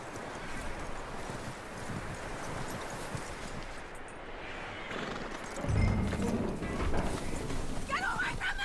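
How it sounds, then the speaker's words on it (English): Horse hooves clip-clopping in Red Dead Redemption 2, steady muffled footfalls under rustling wind and outdoor ambience, with a heavier thump partway through and a voice speaking near the end. "That looks like a decent horse."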